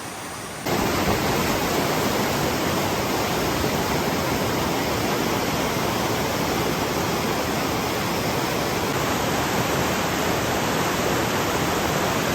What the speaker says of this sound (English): It's just crazy the way the water's moving.